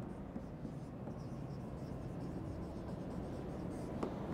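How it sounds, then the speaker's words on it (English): Marker or chalk writing on a board during a business communication lecture, a steady scratchy stroking that runs continuously at moderate level with no talk over it. "Let's write here."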